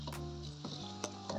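A pot of tinola soup bubbles and simmers steadily at close range, with a soft continuous sizzling hiss and occasional small pops.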